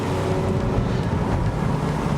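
A 2019 Porsche 911 Speedster engine, new and not yet broken in, runs with a steady, full low rumble and constant broadband roar throughout, close and moderately loud with no talk.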